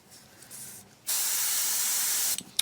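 An airbrush sprays white paint on a 1/35 scale Takom Chieftain Mk10 tank model: a short, faint hiss, then a loud, steady spray burst lasting over a second, stopping abruptly before a brief final puff.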